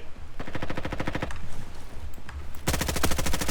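MP5 submachine gun fire in the Roblox game Frontlines: loud, rapid automatic bursts, one long run followed by a brief gap and another sustained burst.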